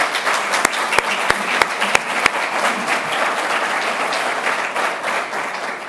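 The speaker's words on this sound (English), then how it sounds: "please give them a round of applause for organizing this day" A conference audience applauds the event organizers, a dense burst of clapping that opens with a few sharp individual claps, then swells into a steady, fairly loud crowd applause that carries on evenly to the end.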